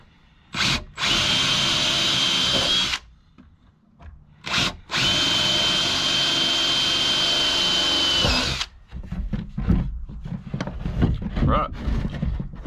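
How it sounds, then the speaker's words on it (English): A power drill bores nail holes through a wooden top plate in a cabin wall frame: two long, loud whining bursts, each nearly four seconds, then someone talks. "That drill bit's the same diameter as the nail"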